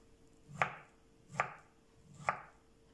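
Boiled broccoli is cut into bite-size pieces with three crisp, evenly spaced knife chops, close and clear against a quiet background.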